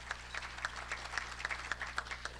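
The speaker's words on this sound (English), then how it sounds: "we'll give them a round of applause" A small audience at a gathering gives a round of applause to welcome new members. The clapping is faint, scattered and brief.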